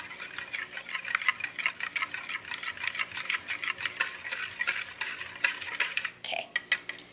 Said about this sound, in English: now I'm going to whisk that until that is smooth